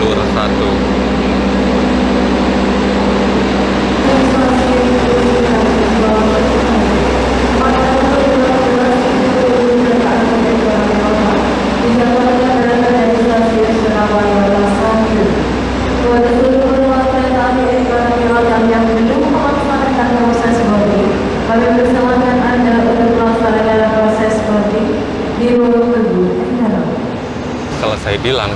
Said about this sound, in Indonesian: Rangkaian kereta api Sembrani yang akan saya naiki saat ini sedang dilansir di